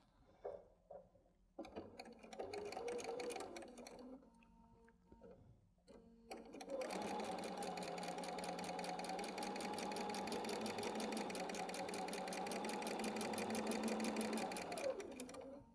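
A sewing machine stitches quilting fabric, a few short bursts at first, then a long, steady, fast mechanical whirring run before it winds down.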